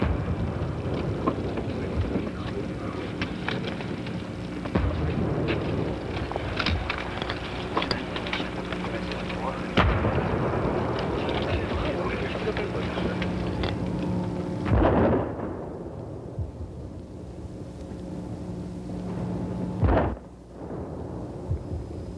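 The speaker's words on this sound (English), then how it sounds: "Soon the 21-gun salute." Artillery guns fire a 21-gun salute at a presidential funeral, heavy booms rolling out at intervals of roughly five seconds over a sustained low outdoor rumble.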